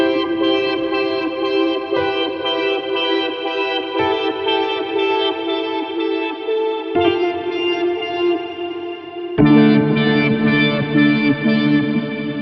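Hybrid piano sample played through a large Black Hole reverb effect, sustained chords with long washy tails, each new chord struck in turn every couple of seconds and swelling into shimmering ambience.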